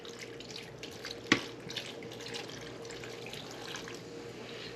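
Guinness Stout poured from a bottle over fruits being prepared with rum and wine, giving a steady close liquid pour with one sharp clink partway through.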